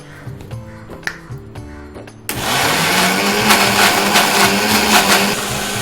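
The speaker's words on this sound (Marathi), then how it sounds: "आम्ही हे कोहळा आणि अननसाचं मिश्रण मिक्सरमधून फिरवून घेतो आहे" An electric mixer grinder whirs loudly and steadily as it blends an ash gourd and pineapple mixture, kicking in abruptly after a few light clinks and then running continuously at full roar.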